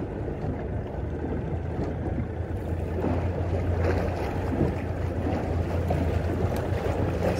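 Strong wind buffets a boat on Botany Bay near Bear Island, a steady roaring rush with low-end microphone rumble and a faint wash of water, continuous throughout with no voices.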